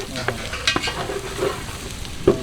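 Goat head curry pieces fry with spices in a pan, a steady close sizzle broken by several scraping stirs and one sharp clack near the end, with no voices.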